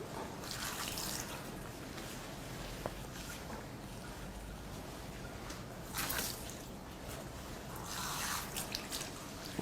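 Water poured and dripping over a deceased person's face during a ritual Islamic body washing. Soft, faint splashes and trickles run throughout, with brief louder bursts of pouring near the middle and end.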